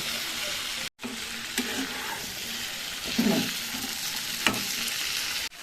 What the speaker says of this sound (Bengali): ঢাকাটা খুলে আমি আর একটু নাড়িয়ে দেবো। যাতে নিচে না লেগে যায়, লেগে যাতে না পুড়ে যায় তার জন্য।